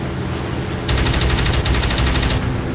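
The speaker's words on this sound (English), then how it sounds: "the Ta-152's cannons just sound awesome" Cannons on a Ta-152 fighter plane fire in the flight game Birds of Steel, a fast, loud, evenly pulsed burst lasting about a second and a half over a steady engine drone.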